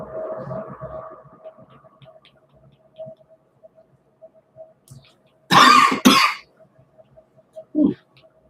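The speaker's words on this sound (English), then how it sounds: "little cough" A person gives two loud, close coughs in quick succession, followed by a softer cough moments later, during a quiet late-night drawing session with faint background hum.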